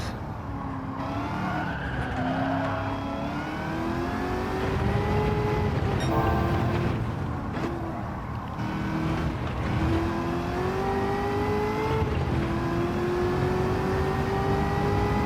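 A supercharged V8 swapped into a 1978 Firebird races in Gran Turismo 7, its engine note climbing steadily through the gears with a smooth, continuous whine and roar, close and loud, broken only by brief dips at each shift.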